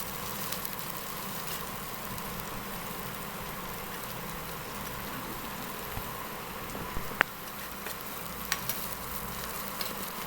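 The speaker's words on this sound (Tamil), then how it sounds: "அது கூட இப்போ பீன்ஸ் சேர்த்துக்கலாம். அதையும் நல்லா சாட்டே பண்ணிக்கலாம்." Beans and carrots sauté in a pan, giving a soft, continuous sizzle with a few light clicks of utensil against metal, fairly quiet and with no voices.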